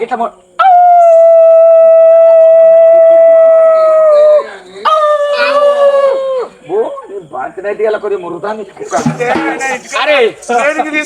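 A dog gives a long, loud, sustained howl, then a second wavering howl, followed by shorter yelping and barking-like bursts mixed with voices toward the end.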